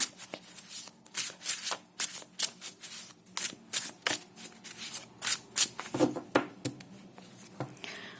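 Tarot cards are shuffled repeatedly in quick, crisp riffling bursts, close and fairly quiet, with short pauses between shuffles.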